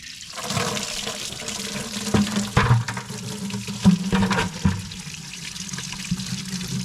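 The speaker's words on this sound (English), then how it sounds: "we're going to start with draining out the coolant. I got a bucket underneath to hopefully save" Engine coolant from an Allis Chalmers road grader drains into a bucket and splashes onto the floor in a steady close pour, with irregular gurgles and spatters rising and falling throughout and no one talking.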